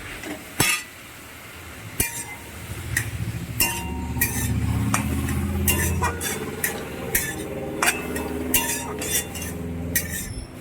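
Jute leaves are stirred in a pan for a lentil dish, with a spoon clinking against the metal in irregular knocks over a low, steady rustle of wet greens, heard close and without talk.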